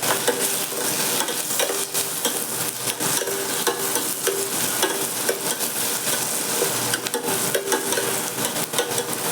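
Paneer thokku frying in a pan with Kashmiri chili powder, a steady loud sizzle as it is stirred, with occasional scrapes of the spoon and no talk.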